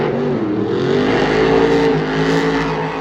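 Monster trucks racing at Monster Jam Anaheim, including the Bakugan Dragonoid, roar loudly and steadily with layered engine drone and rising, shifting pitch from start to finish.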